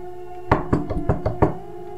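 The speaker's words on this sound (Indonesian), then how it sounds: "Rigen mengetuk pintu rumah kayu tersebut dengan keras." Loud knocking on a wooden house door, six sharp raps in quick uneven succession, close and hard, with a steady low hum underneath.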